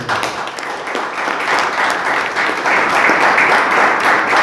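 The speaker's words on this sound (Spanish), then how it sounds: "¿Cuánto le pueden dar un aplauso al Señor?" A church congregation applauds during a sermon, a loud, sustained wash of clapping from many people that swells slightly toward the end, filling the room without any voices standing out.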